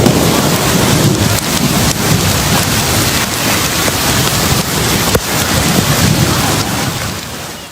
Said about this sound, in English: it's like lightning and thunder and hail, and it's like a little river going down a street